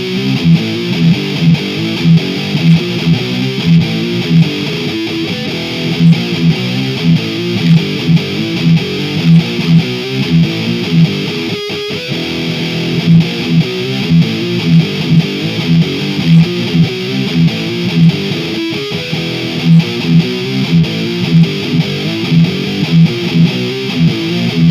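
Harley Benton HWY-25 electric guitar played through an Amplitube 5 live distortion, giving loud, tight, high-gain riffing with rhythmic chugging and brief pauses, no voices.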